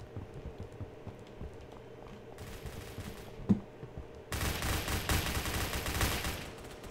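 Dense automatic gunfire rattles during a Roblox Phantom Forces battle, first in a softer stretch and then as a loud, continuous burst of rapid shots.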